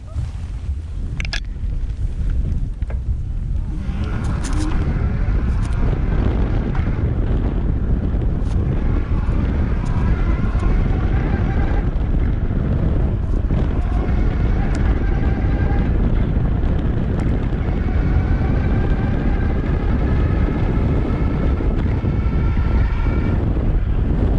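VoltBike Bravo electric bike riding under motor assist, a steady loud rush of wind and motion noise throughout with a faint rising whine from the motor, no talking.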